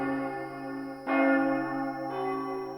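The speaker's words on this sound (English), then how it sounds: "We got the big bells from Big Ben." A Big Ben bell voice on a Technics keyboard rings out two deep, resonant church-bell strikes about a second apart, each with a long sustained metallic tone and no talking.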